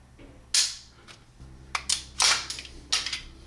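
A Springfield 1911 pistol's trigger is pulled and reset in a dry-fire check, giving several crisp, close mechanical clicks and snaps in uneven succession over a low background hum.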